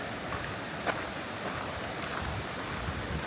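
Steady rushing water noise from a creek beside the Appalachian Trail, with a windy, broadband wash, continuous and fairly loud, with faint small splashes.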